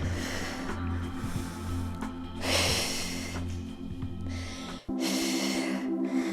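Two distinct breaths, a quick sharp exhale or sniff and then a second one, during a total body sculpt yoga exercise, heard over steady background music.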